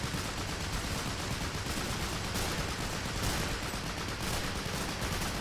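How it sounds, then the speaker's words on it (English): Men of War .30 cal and .50 cal machine guns roar continuously during a siege battle at Mont Saint-Michel, a dense, loud, unbroken wall of rapid gunfire and battle noise with no pauses. "It's just really loud. That 30 cal and 50 cal makes a lot of noise."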